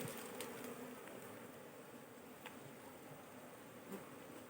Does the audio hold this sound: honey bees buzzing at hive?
yes